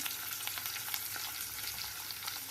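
Onions half-softened sautéing in a pan for spiced potatoes, a steady bright sizzle with faint stirring scrapes throughout, close and continuous with no voices.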